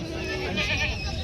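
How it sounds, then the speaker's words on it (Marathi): Native gavran breed goats bleating at a village goat market, a loud, close, wavering bleat filling the moment with crowd noise behind. "ह्या पण गावरान जातीमध्ये शेळ्या आहेत"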